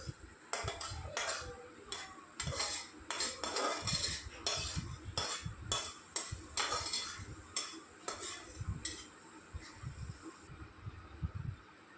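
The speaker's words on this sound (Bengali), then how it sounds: "তো এটাকে ভালো করে নাড়িয়ে নেব" Boiled greens with spices and home-ground cumin powder being stirred in a pot, giving repeated scraping and clinking strokes of a utensil against metal in a steady rhythm, close and fairly loud, with no talking.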